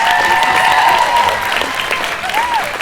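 A convention audience at a Hocus Pocus 30th anniversary reunion panel applauds loudly and steadily, dense clapping sustained throughout with some scattered cheers and a whoop rising above it.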